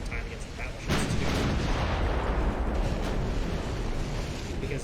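Heavy naval gunfire booms in the game Ultimate Admiral: Dreadnoughts, with 4.9 and 5-inch guns firing, a dense sustained roar of overlapping blasts that swells after the first second and stays loud throughout.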